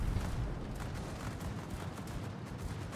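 Dense, rumbling naval gunfire from enemy warships in World of Warships, a continuous low barrage of booms with crackling bursts throughout, loud and sustained without a clear break.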